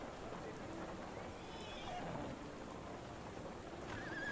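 Steady rainfall in the video game Sherlock Holmes The Awakened fills the scene as a constant, even hiss, with faint incidental game sounds and a voice talking over it at times.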